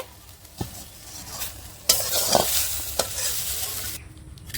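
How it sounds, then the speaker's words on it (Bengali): Yardlong beans fry in a pan while being stirred, giving a loud sizzle that swells after a sharp clatter, with scraping strokes of the spatula and a few knocks. "এই বরবটি ভাজা দিয়ে এক থালা ভাত খাওয়া হবে"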